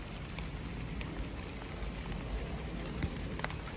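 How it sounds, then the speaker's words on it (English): Rain falls in a vegetable garden where tomatoes and peppers grow, a soft steady patter of drops on leaves and surfaces with occasional sharper taps, fairly quiet and continuous with no talking. "And it's raining."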